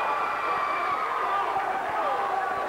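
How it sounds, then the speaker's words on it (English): Basketball crowd at a 1994 Rhode Island junior high championship game in a gym, yelling and clamoring loudly and continuously for a foul call, a sustained roar with shouts throughout. "Crowd calling for a foul"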